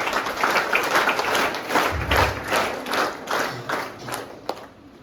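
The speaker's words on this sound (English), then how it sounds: "So give a huge round of applause for our classmates first," Audience applause at a school investiture ceremony, a room full of hands clapping steadily with individual claps standing out, slowly tapering toward the end.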